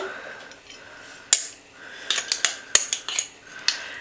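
A metal spoon clinks against a jar while scooping dried onion, a few sharp taps and light rattling scrapes close by in a quiet kitchen.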